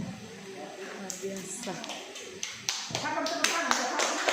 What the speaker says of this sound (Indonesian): tepuk tangan buat Ibu Airin